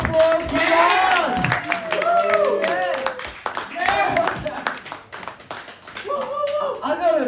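A comedy club audience in Footscray claps for stand-up comedian Rod, with scattered hand claps and taps running under loud voices and cheering.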